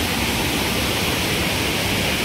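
A waterfall near a Ganpati temple, water crashing over slick rocks in a steady, dense roar that fills the whole clip with no voices.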